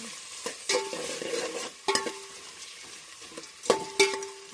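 Onions fry in a pan for a homemade desi pulao while a spoon stirs them, with scraping strokes and clinks over a steady close sizzle, alone without talk.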